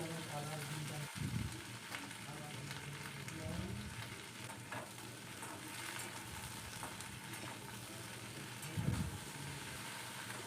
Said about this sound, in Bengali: দিয়ে ভেন্ডিগুলো দিয়ে দিচ্ছি, ভাজা করে নেবো